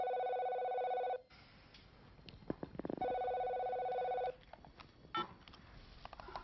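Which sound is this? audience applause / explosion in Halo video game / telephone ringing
telephone ringing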